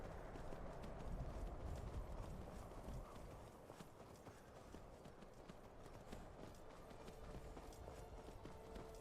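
Horse hooves clip-clop steadily in the game Skyrim, a rhythmic trot of hoofbeats close by over a low ambient background, continuing throughout without talk.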